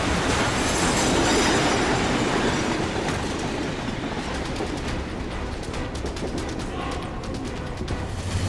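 A train runs loud and close for several seconds, wheels clattering with a rhythmic clickety-clack and occasional squealing over dense rumbling noise.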